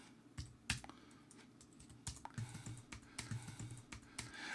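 Close, fairly quiet computer keyboard typing with irregular clusters of key clicks, coding a for loop in Unity during a live training session, with no talking.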